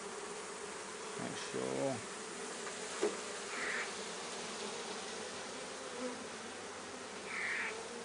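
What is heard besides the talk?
honeybees buzzing around an open top bar hive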